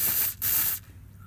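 CRC lubricant sprayed from an aerosol can under a Toyota Land Cruiser, two short close hissing bursts in quick succession, then quiet.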